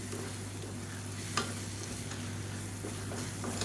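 Green gram thokku fries over a low flame in a pan with a steady, close sizzle, broken by a few soft scrapes and clinks as it is stirred.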